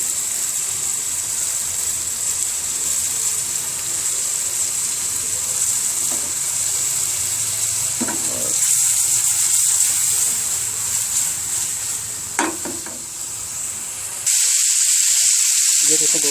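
Finely chopped green chilies frying with tomatoes and onions in oil for an egg onion curry, a loud continuous sizzle up close with a couple of short clinks of stirring.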